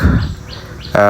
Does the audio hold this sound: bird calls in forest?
yes